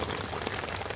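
Steady rain falls outside in a continuous, even patter of drops on surfaces, moderately loud and unbroken for the full second with no voices.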